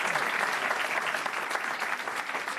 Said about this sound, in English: Let's give our great Democratic mayor a big round of applause.